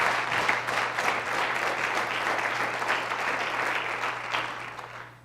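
Church congregation applauding during a Spanish-language worship service, a steady dense wash of many hands clapping that holds for several seconds, with a low steady hum underneath, before tapering off at the end.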